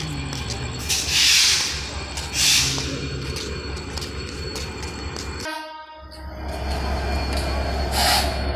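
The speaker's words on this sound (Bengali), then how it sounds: "এখন এইমাত্র ট্রেন রওনা দিল" An intercity train from Chilahati bound for Dhaka pulls out of the station, with a loud continuous rumble of rolling wagons, a horn sounding in bursts, and a brief dip in the noise partway through.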